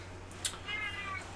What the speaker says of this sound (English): Is that your cat? That was my cat.